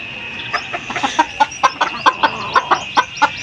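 Skittish chicken clucking in a rapid, steady series of short calls, close and fairly loud, with no talking over it.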